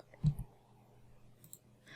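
A couple of quick, soft computer mouse clicks sound close by against a quiet background, followed by faint low rustling.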